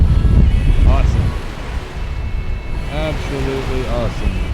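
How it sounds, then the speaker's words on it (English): Wind gusts over open sea while waves wash and slosh around a sailboat, a steady loud rush close to the microphone with a few faint creaks and tones above it. "Just listen to the sounds, the wind, the water, the waves."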